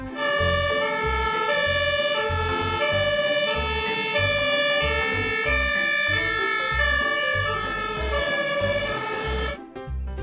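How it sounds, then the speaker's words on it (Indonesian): An electronic toy fire truck siren wails loudly and continuously, its high, buzzy tone repeating in a steady pattern over a pulsing beat, cutting off at the end. "mobil pemadam kebakaran"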